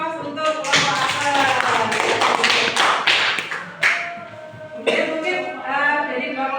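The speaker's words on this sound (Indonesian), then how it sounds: "Beri tepuk tangan kelas untuk kelompok apa?" Indonesian classroom applauding a discussion group: a burst of many hands clapping close by in a room, fading briefly then resuming, with some voices and harmonic noise mixed in.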